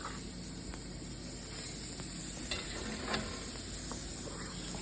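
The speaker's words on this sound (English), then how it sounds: "Here it's sizzling." Food sears on a Schwank infrared grill, a steady close sizzle and hiss with a few faint crackles and pops.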